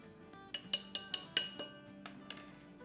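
A spoon clinks against a bowl while potato nugget pieces are stirred through a slurry, with about eight light, sharp taps in an uneven rhythm, close and fairly quiet.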